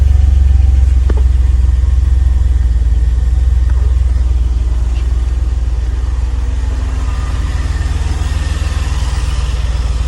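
A 1981 DeLorean DMC-12 with automatic transmission runs steadily after starting, its engine a loud, constant low rumble up close with slight variations in tone and no talking.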